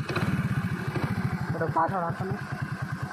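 A motorcycle engine runs after being started, its fast regular low putter sounding close and steady throughout while someone speaks over it.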